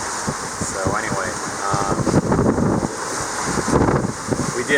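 Strong wind buffets the microphone aboard a sailboat at sea, with the Agulhas current in the southern Mozambique Channel, a steady roar of gusts and rushing water throughout.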